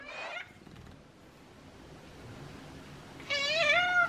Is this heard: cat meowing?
yes